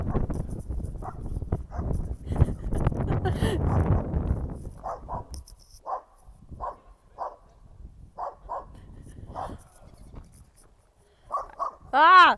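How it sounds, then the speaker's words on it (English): Dogs bark and yip at hikers while running at them on a trail, in short scattered bursts over footsteps and people talking nearby, with a louder bark at the end. "Got dogs running at us."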